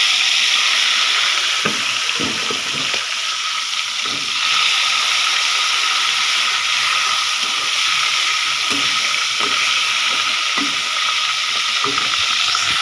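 Fish sizzles in a frying pan with a continuous hiss, while a few clattering knocks and rustles come near the start. Nobody speaks.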